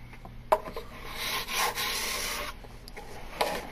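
Edgeband is trimmed along a cabinet edge in faint scraping, rasping strokes, with a sharp tick at the start and another near the end.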